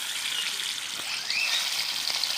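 Foli fish sizzle steadily in hot mustard oil over a clay stove, a close, continuous crackling hiss that grows slightly louder partway through.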